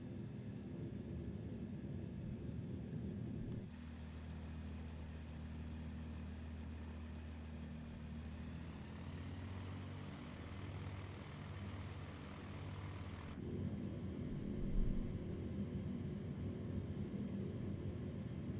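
Cirrus Vision Jet engine in Microsoft Flight Simulator 2020 shifting to a steady, louder drone with layered tonal hums as the throttle comes up, holding for several seconds before easing back to a broadband rumble.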